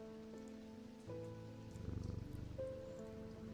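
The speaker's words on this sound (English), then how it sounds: "Listen to the rumbly kitty." A shop cat purrs, a low rumbling pulse that swells partway through over a steady soft tonal hum, close and quiet with no talking.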